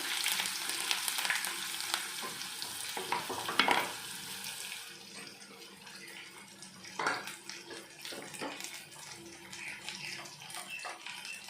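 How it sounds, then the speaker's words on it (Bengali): Garlic sizzles in hot oil in a pan for a dish of kalmi greens with pond fish, a steady, fairly loud frying hiss with occasional stirring clatter, no talking. "বন্ধুরা আমি ওই তেলের ভিতরে দিয়ে দেবো রসুন"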